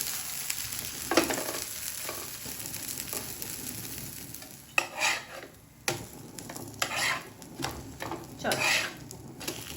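Semolina and wheat flour batter with vegetables frying in a hot pan on a gas stove, a steady low sizzle with intermittent louder scraping and stirring bursts of a utensil against the pan, fairly close.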